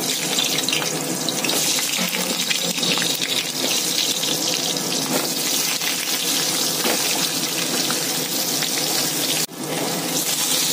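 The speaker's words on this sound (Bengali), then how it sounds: "এবার আলুটা আগে একটু ভেজে তুলি।" New potatoes frying in hot oil in a home kitchen, giving a loud, steady, dense sizzle that holds throughout with no voices, apart from one brief dip near the end.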